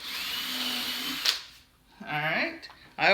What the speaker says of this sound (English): To pre-drill those, I'm using a 1/8 inch drill bit